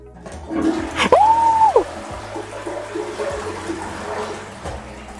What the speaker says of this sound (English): German toilets, when you flush it,